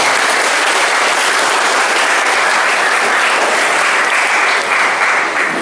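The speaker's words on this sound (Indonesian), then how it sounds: "Tepuk tanganlah untuk kita semua." Loud, dense applause from a large crowd at a church inauguration, sustained and even throughout, with no voices rising above it.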